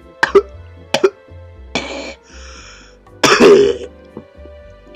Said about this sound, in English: I'm coughing because I died.